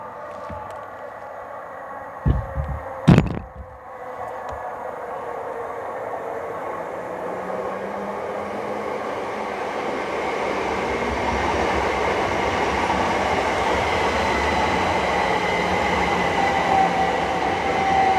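A Great Western Railway Class 800 train arrives at Twyford station on the Great Western Main Line. A rising rumble of wheels and engine builds and holds steady after a few sharp clanks near the start.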